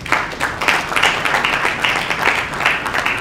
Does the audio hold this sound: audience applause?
yes